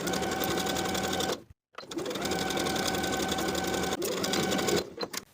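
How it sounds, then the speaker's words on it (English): A sewing machine stitching a single interfaced collar layer to a jumpsuit neckline, whirring steadily at close range in two runs with a brief stop between them and a quick halt near the end. "we'll sew that single interfaced layer of the collar to the neckline from one center front to the other"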